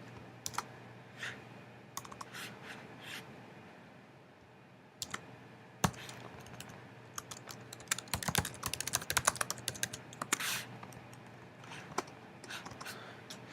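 Rapid clicking of keys on a computer keyboard while building an HTML website, soft and close, coming in irregular bursts that grow busier and louder midway before settling into steadier tapping.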